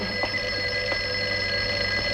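A telephone in a 1950 film rings continuously, a bright electric bell tone holding steady and fairly loud over a faint background hiss, with no one speaking.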